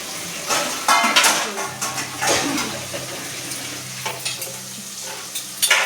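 Pots and vessels being washed by hand in a home kitchen: clinks and scrapes of metal on metal with splashing water, close and irregular, fading to quieter rattling.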